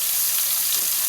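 Onions sizzle in hot oil in a pan: a short, steady, even crackle with no talk.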